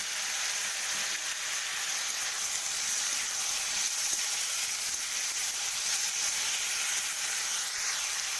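Fried potatoes sizzling in a pan with poppy seeds and spinach, a constant bright hiss of frying oil holding steady and close throughout, no voices.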